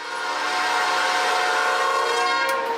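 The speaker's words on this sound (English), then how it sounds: "As far as freight trains go, this was a fairly fast one, and not very long" A fairly fast, short freight train passes a road crossing close by, its horn blaring in one long, loud, sustained blast over the rumble of the passing cars.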